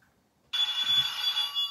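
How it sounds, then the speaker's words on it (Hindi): A telephone-style ring signals the banker's call on the game show Deal or No Deal, breaking in sharply after a short silence and holding steady, loud and close, with a faint low thump partway through. "बैंक का फोन आ गया है और बैंक खुश भी होगा."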